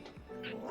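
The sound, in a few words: dog barking in the video game Minecraft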